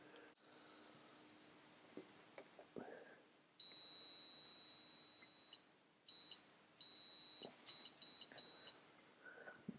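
A FLIR CM46 clamp meter set to continuity mode emits sharp electronic beeps, one long tone followed by several shorter bursts of varying length, interspersed with faint clicks in a quiet room.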